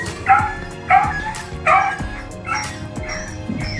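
A dog barks nearby, five sharp, loud yaps spaced about a second apart, each with a whiny tone, in a residential area where a Raider 150Fi motorcycle is being fitted with decals; faint background noise between barks.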